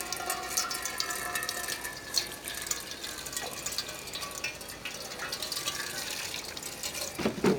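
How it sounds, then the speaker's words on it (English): Petrol poured from the edge of a container over a foam lawn mower air filter, a continuous trickling splash with occasional drips throughout, close and steady. "So pour it from the edge so it helps wash it as it's running down through."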